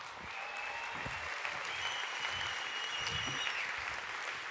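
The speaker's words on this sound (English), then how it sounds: "give them a round of applause" Audience applause for two volunteers at a Vemma convention in Europe, a steady wash of clapping from a large crowd that holds at an even level for several seconds.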